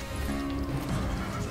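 A horse in the Western game Call of Juarez gives a short, loud burst of snorting and hoof movement, close up, with dense noise throughout.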